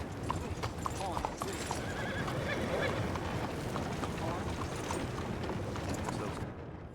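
A horse in Red Dead Redemption 2 neighs and whinnies over steady clip-clopping hooves, loud and near, with someone talking over the game sounds.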